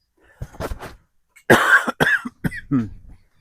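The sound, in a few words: cough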